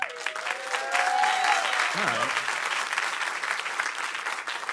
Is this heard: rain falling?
no